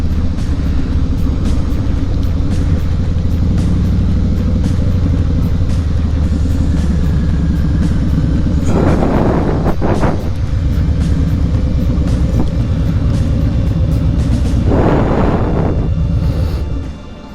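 A Harley-Davidson motorcycle rides along the road toward a dealership, a steady loud low engine rumble with wind noise throughout, and two brief louder rushes of passing sound partway through.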